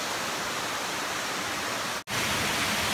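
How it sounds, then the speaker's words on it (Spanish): Waterfall in Mayflower Bocawina National Park, Belize, a steady loud broadband rush of falling water filling the whole scene, briefly cut off once before resuming. "allá está la cascada"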